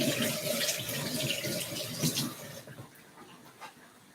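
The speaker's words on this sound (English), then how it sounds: "I will wash my hands." Tap water runs into a kitchen sink as hands are washed, a steady close splashing hiss that changes as the hands move, then quiets and thins toward the end.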